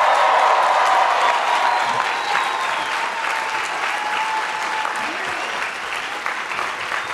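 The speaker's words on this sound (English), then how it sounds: "Round of applause again, please." A crowd at a Columbia School of General Studies commencement ceremony applauds the Class of 2022 graduates, loud at first, then easing into a steady, gradually softer clapping with faint cheers mixed in.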